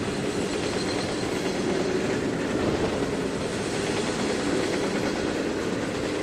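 A train rolls along the track in Trainz 2019, a steady close rumble with a faint clickety-clack running continuously and no voices.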